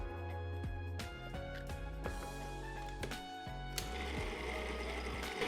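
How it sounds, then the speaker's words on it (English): A food processor whirs as it purees shrimp paste with ginger, its motor running in stuttering bursts with clunking pulses before settling into a steady grinding hum, no voices over it. "I'm gonna affix the lid and run this until the shrimp paste is smooth and fluffy"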